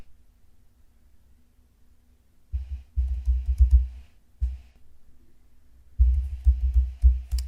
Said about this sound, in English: Typing my passphrase